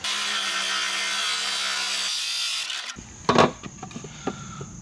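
A wooden board being sawn for a garden build: a steady rasping stroke that stops, followed by several knocks and clatters of wood being handled nearby.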